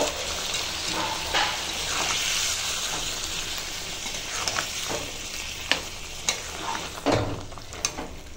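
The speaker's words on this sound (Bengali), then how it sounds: "এখন দিয়ে দেবো সেদ্ধ করা ডাল" Boiled lentils hit a hot pan and set off a loud, continuous hissing sizzle, with a few spatula scrapes and clinks toward the end, close and with no voices.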